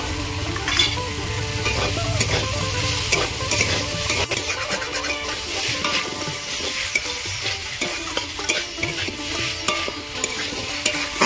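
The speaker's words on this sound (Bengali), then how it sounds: "আদা রসুন দিয়ে আমি ভালো করে ভাজা ভাজা করে নিয়েছি" Ginger and garlic paste fries in a pan, with loud sizzling and repeated scraping of a spatula as the paste is stirred, no talking.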